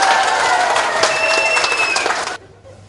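Seminar audience applause, a dense, loud wash of many hands clapping that carries on steadily for over two seconds before cutting off abruptly into near silence.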